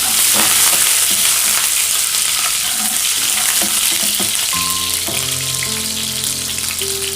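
Mustard seeds, ginger, garlic and green chili fry in hot oil for a potato snack, a loud close sizzle with crackling pops and stirring, no voices.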